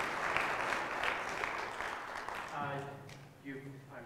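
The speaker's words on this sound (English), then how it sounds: "another round of applause for Jogo" Concert audience applauding for the technical ensemble at a university symphonic band and jazz concert, a broad wash of clapping that fades after a few seconds as a voice begins speaking over the tail.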